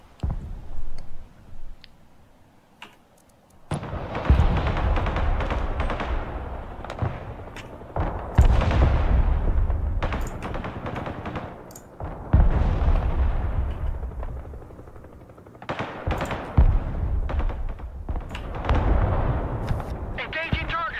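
Artillery and gunfire in the video game Broken Arrow come as repeated heavy booms and rolling explosions in several dense bursts, loud and close, with short quieter gaps between them.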